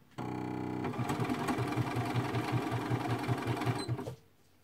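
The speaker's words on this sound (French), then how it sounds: "là je couds avec un cône et je crois qu'elle n'aime pas du tout" A sewing machine running a zigzag stitch with thread fed from a cone, a steady rapid mechanical chatter with an even pulsing beat, close and alone, starting and stopping abruptly after about four seconds.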